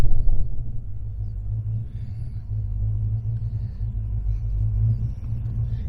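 A 1973 Chevrolet Camaro RS Z28 with a Tremec 5-speed idles with a deep, steady low rumble, loud and close, the engine burbling evenly with slight swells and no one talking.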